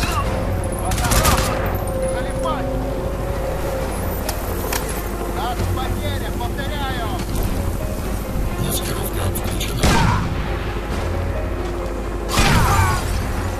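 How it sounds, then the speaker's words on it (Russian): Gunfire in the Crysis 2 shooter, a steady rattle of shots and a few sharper bursts over a constant mechanical drone and ambient rumble, with voices talking throughout. "Да он стреляет."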